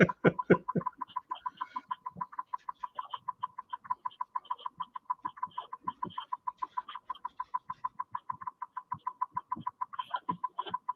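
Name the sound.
pet woodpecker calling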